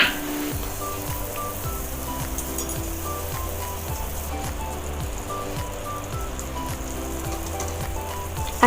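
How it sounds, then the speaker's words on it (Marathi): Pomfret fish fry in a pan of oil, giving off a steady crackling sizzle with scattered pops, close and continuous throughout. "आता हे पापलेट फ्राय झालेले आहेत"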